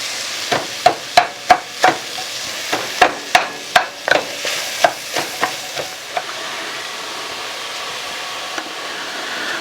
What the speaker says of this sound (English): We'll sweat this onion down.